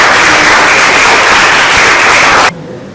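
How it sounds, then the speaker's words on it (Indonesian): Students in an Indonesian physics classroom clap briefly for a presenting group, a loud burst of dense clapping that stops abruptly after about two and a half seconds, leaving a quiet room. "tepuk tangan untuk kelompok."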